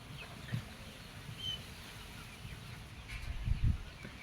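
A hen clucks softly in a backyard coop, a few low, brief clucks scattered through a quiet outdoor scene, with a slightly louder cluster near the end.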